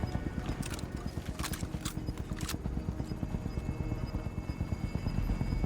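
A helicopter in Call of Duty: Modern Warfare II thumps with a fast, steady rotor beat close by throughout, with a few short bursts of hissing noise early on.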